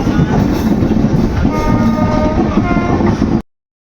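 The Andaman Express rumbles loudly and continuously along the tracks with a steady metallic roar and rhythmic rail noise, close up, cutting off abruptly.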